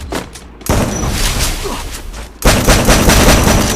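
Sniper fire in a mobile shooting game comes as two loud, sharp bursts of shots, each followed by a lingering blast and rumble.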